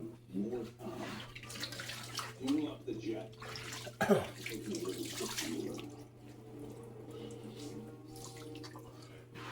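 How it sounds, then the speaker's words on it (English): Water drains and splashes in a kitchen sink during deep cleaning as rags are wrung out, with irregular sloshing and a sharp splash midway, under intermittent talk. "I'm gonna ring all these out now so we can go back over here and start draining this out."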